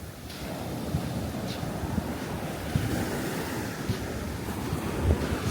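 Waves wash and break continuously at Kamala Beach in Phuket, Thailand, with steady wind buffeting the microphone and faint low rumbles underneath.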